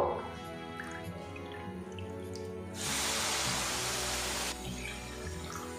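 Water poured into roasted semolina in a pan makes a steady splashing rush for about two seconds in the middle, with quieter kitchen clatter before and after.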